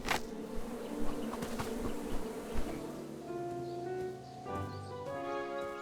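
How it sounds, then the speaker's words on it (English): Bees buzzing in the video game King's Quest, a steady insect drone under game music, with tonal notes building toward the end. "Let's get rid of the bees."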